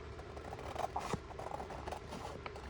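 Something is being cut with a run of soft snips and rubbing scrapes at close range, with no talking.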